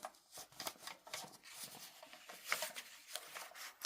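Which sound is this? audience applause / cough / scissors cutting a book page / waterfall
scissors cutting a book page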